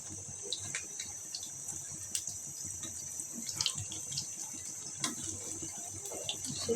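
Potato chops frying in hot oil give a steady, close sizzling hiss dotted with small crackles and pops, with no voices.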